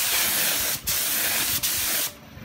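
A spray gun sprays lacquer surfacer onto car bodywork in three loud, close hissing bursts separated by brief pauses, the last burst cutting off abruptly.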